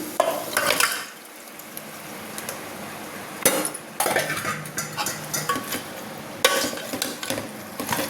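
Soaked country chicken is stirred in a metal cooking pot, with loud clanks and scrapes of a utensil against the pot over a soft sizzle, coming in irregular bursts.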